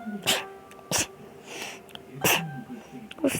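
A person sneezes several times in quick, sharp bursts, close to the microphone, with breathy pauses and faint background noise between them.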